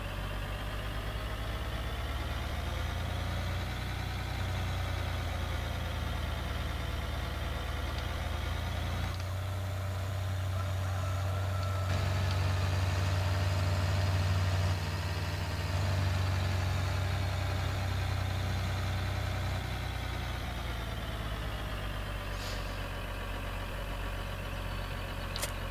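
A New Holland tractor engine idles steadily in Farming Simulator 2013, a constant loud low drone with a faint high whine, briefly dipping then resuming without a break.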